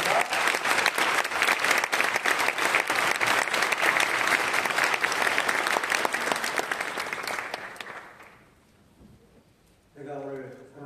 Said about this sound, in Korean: 목사님 환영하는 마음을 뜨겁게 박수하겠습니다